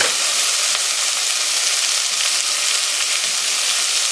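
Sweet onions sweat in a pan for a paprika chicken stew, giving a steady, even sizzle and hiss that runs unbroken and fairly loud, with no voices.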